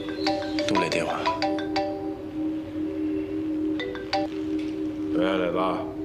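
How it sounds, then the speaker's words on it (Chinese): Mobile phone ringtone for an incoming call, a bright repeating melodic tone playing in short phrases, clear and near, with a voice speaking briefly over it near the end. "爸，杜磊电话。"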